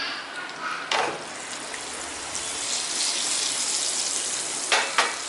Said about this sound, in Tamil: இப்போ இந்த எண்ணெயில் சேர்த்துட்டு முட்டையை வந்து நல்லா ரெண்டு பக்கமே திருப்பி விட்டு நல்லா ரோஸ்ட் மாதிரி பண்ணி எடுத்துக்கலாம்